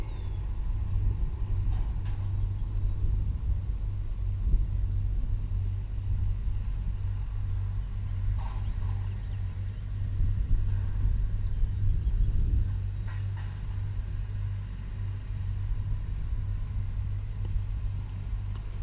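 A blue tractor pulling two red implements on a custom straw baling job gives off a steady low engine rumble, close and continuous, with slight swells in load and no talk over it.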